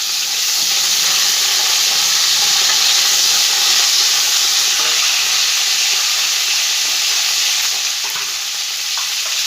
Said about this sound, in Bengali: ভালো করে ফুলকপিটা আগে ভেজে নেব।